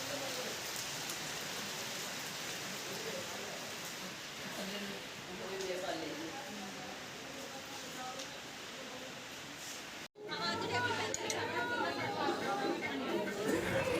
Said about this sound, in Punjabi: ਅਤੇ ਬਾਰਿਸ਼ ਹੋ ਰਹੀ ਹੈ